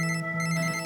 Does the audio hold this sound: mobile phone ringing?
yes